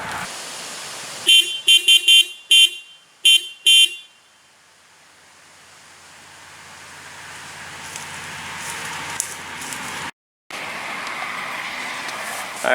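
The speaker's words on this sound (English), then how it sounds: "This is going to be the test of the stock Pontiac Vibe horn with a Radio Shack decibel meter." Stock horn of a 2008 Pontiac Vibe sounding in six short, loud honks of uneven length, measured from 25 feet away, followed by a long stretch of quiet outdoor background.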